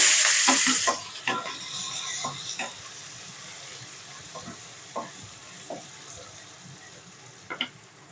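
Onions going into hot oil with tempering seeds for an egg tomato curry: a loud sizzling burst at first that settles into a softer sizzle, broken by scattered stirring clicks, close and with no talk.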